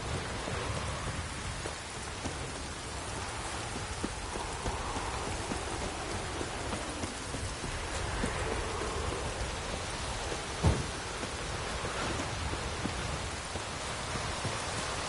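Video game rain from The Witcher 3 pours down steadily in a continuous wash of noise, with a single brief thump partway through and no voices.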